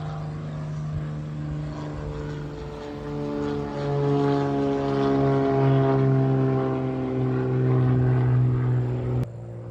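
A propeller airplane drones overhead outdoors, a steady, loud, layered engine hum that swells as it passes and then cuts off abruptly near the end, with no talking.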